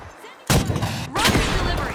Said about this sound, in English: Frag grenade set. Sending a frag.